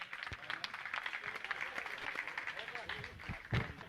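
An audience at a religious gathering claps to honour guests, a dense patter of applause that fills the moment at moderate loudness, with a few sharper claps standing out.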